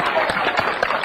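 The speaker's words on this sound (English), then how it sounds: "A big round of applause for America's inventor" Studio audience of an infomercial applauds as a rotisserie inventor comes on stage, a brief dense patter of clapping with scattered sharper claps.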